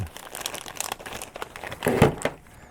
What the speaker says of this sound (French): je vais remettre ça dans le sac